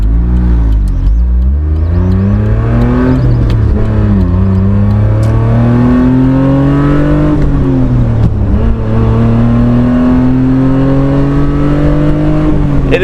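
A Honda Beat's small engine revs hard while driving, its loud buzzing note climbing repeatedly and dropping at each gear change, close and continuous with no speech.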